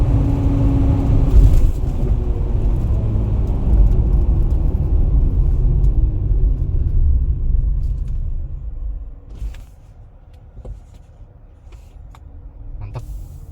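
A Chery J6 electric SUV slows under braking on a test drive, a steady road and tyre rumble that eases and quiets toward the end with a few faint clicks inside the cabin.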